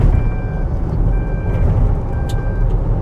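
Speed warning chime in a Seres EC35 electric van above 80 km/h: three short, thin beeps at even intervals, heard over loud road and motor rumble inside the cab.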